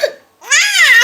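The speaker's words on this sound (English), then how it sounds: "I got the hiccups." A woman's hiccup, a short sharp catch of breath, followed by a rising burst of a baby's high-pitched laughter right up close.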